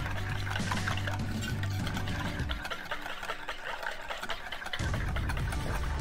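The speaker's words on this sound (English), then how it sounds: "So you put a little bit of cold water in there to get the consistency you want." Cold water poured into a vinaigrette dressing, a steady liquid trickle heard close up for several seconds, pausing briefly midway before resuming.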